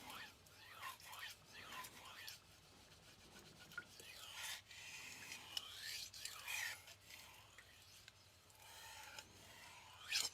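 A knife blade is drawn in long, rhythmic strokes across a super vitrified diamond whetstone, each pass a rasping scrape that swells and fades, repeating steadily up close with no talking.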